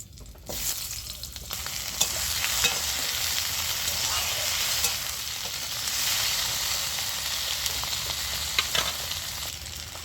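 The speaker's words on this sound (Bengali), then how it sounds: "ওই কড়ার মধ্যে আমি আলুগুলো দিয়ে ভেজে নিচ্ছি" Potatoes frying in oil in a wok after fish has been fried, a steady close sizzle with occasional stirring clicks and crackles, alone with no talk.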